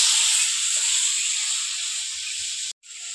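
Jujubes (kul) fry in hot oil, giving off a steady, bright hiss that holds at an even level for nearly three seconds, then breaks off briefly before resuming.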